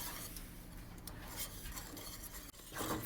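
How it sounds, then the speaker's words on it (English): A spoon stirs thick semolina cake batter with orange peel and butter in a pot, making a continuous soft scraping and rubbing sound, close and steady with a brief break near the end. "Just keep stirring it."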